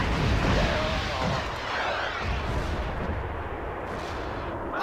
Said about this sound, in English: I think my howitzer did that.